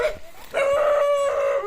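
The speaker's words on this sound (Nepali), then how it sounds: "ओइ कुकुरले टोक्दैन नि भाइ" A dog in an abandoned hillside village in Nuwakot, Nepal gives a short yelp, then a single drawn-out, howl-like bark that holds steady for about a second, loud and close on an overgrown trail.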